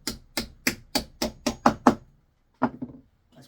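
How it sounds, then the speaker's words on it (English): A hammer strikes repeatedly in a quick, even rhythm, about eight close knocks driving hollow tubes into place in a bee hotel, then a short pause before a few more lighter taps. "Sometimes you have to use a hammer to knock them in place."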